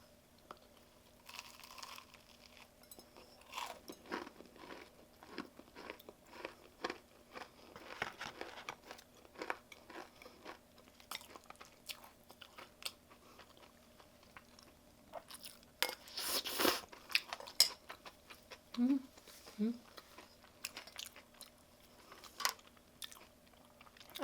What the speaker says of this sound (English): I'll try the biscuits first.